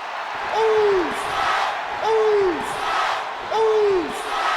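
Crowd noise swells and fades in three rhythmic waves, a chanting arena roar from the WWE 2K25 wrestling game, loud and continuous under a faint background wash.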